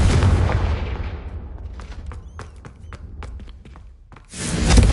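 Confringo fire spell in Hogwarts Legacy: a loud, deep blast that rumbles and fades, then crackling bursts and snaps, and a second roaring surge at the end.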